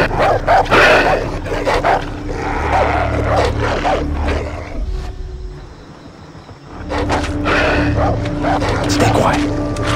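Dogs bark and growl in the video game Far Cry 3 on ultra settings, loud and close, mixed with game noise and shouting, with a brief quieter gap midway.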